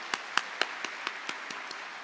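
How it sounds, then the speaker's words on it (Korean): A church congregation gives a short burst of applause, eight sharp, evenly spaced claps fading slightly, quiet and close. "우리 다시 한번 큰 박수로 우리 사랑하는 자녀를 축복하겠습니다."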